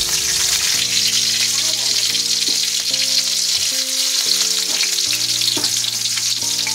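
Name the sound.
green chillies frying in hot oil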